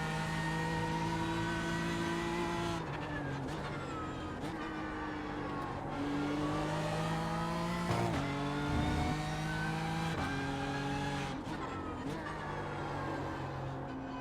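Engine of a GT3 race car in the iRacing sim, a BMW M4 GT3 or Lamborghini Huracan GT3 Evo, revving steadily with several quick downshifts and blips, pitch stepping up and falling, continuous and close, no talk.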